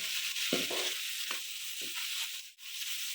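Chicken pieces fry in a pot for pulao, a constant soft sizzle broken by a few scraping stirs of a spoon, heard close and moderately quiet with no talking.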